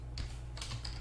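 A computer keyboard on a Linux Mint MATE desktop typing a web address, a couple of short bursts of close, crisp keystrokes within about a second.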